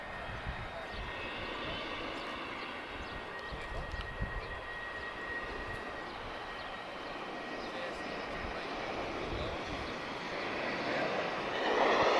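A Lufthansa airliner in its old livery at Lisbon Airport gives a steady distant engine rumble that builds toward the end, with faint talk mixed in.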